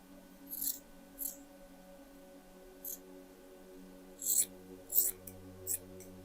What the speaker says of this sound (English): here I will cut the sleeves